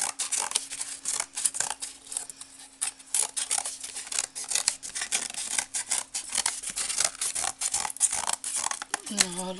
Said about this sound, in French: je vais quand même le couper encore un petit peu parce que là il est un petit